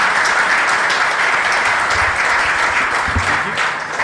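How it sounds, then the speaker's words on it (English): Audience applause for panel speakers at a school sport forum, a dense, even wash of clapping from a large crowd lasting several seconds without a break. "A round of applause for them, please."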